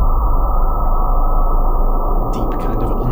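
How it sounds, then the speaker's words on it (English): A deep, murky underwater-like tone layer from a decomposed sample in HALion 7 rumbles steadily and loudly on its own, with a brief higher crackle near the end. "Deep kind of underwater thing."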